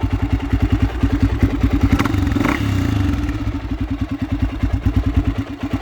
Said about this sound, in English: got the idle nice and low